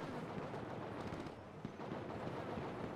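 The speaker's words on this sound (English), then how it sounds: "Oh, I do hear gunshots." Gunfire in a video game, a dense continuous barrage of shots and blasts that fills the whole stretch at a steady, fairly faint level, with no talking over it.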